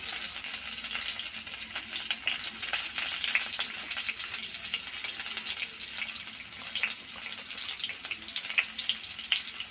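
Onions and green chillies fry in hot oil for a bitter gourd dish, giving a steady crackling sizzle with scattered sharp pops throughout, close and moderately quiet, with no voices.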